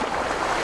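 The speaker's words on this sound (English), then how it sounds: "Somebody motoring by." A motorboat passes by on open Caribbean water near an island lighthouse, its engine a steady broadband wash of motor and water noise, fairly close and continuous without a break.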